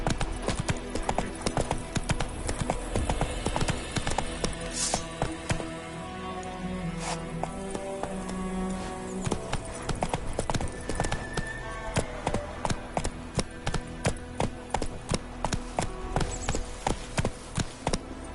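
Roach, a horse in The Witcher 3 video game, trotting with a continuous rapid clip-clop of hooves, loud and close, keeping an even rhythm throughout, with faint talk now and then.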